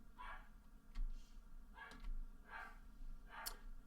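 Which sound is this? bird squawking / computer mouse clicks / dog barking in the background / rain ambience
dog barking in the background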